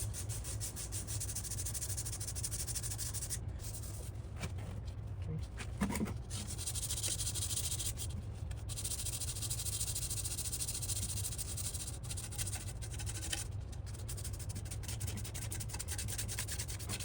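Fine 600-grit sandpaper rubbed by hand over a corroded aluminum motorcycle fork, producing a continuous close, hissing scrape with slight pauses and shifts in stroke, over a low steady background hum.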